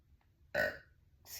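A person lets out one short, loud burp close to the microphone in a quiet room, followed by a faint breath or vocal sound.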